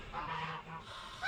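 Geese squabbling on a farm give a continuous run of loud, harsh, overlapping honks, with a louder burst at the end.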